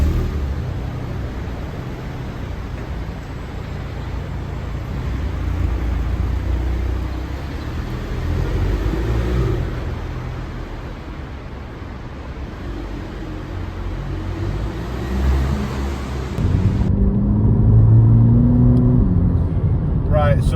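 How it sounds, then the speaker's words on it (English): A Volkswagen GTI engine drones steadily from inside the cabin with road rumble on country lanes, swelling briefly as it accelerates near the end, while a person talks over it. "So we're out in the car now, just going up to some nice country lanes"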